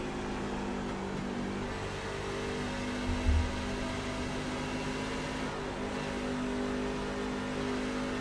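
Race car engines drone steadily as cars lap Darlington track in a racing video game, with a sustained mid-pitched roar and a brief louder swell partway through.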